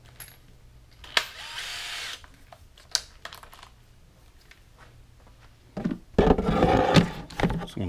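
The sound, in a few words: drilling plastic cooler with step bit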